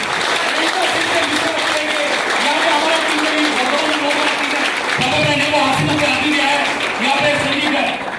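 Applause from the audience at a motivational speech meeting, a broad wash of clapping that holds steady throughout, with a speaking voice running over the top of it.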